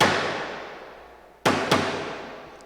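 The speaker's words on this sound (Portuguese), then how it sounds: "Ó, pancada." Two sharp knocking raps land close together after a fading noisy wash, each a crisp hard strike with a short decay, fairly quiet with no talking.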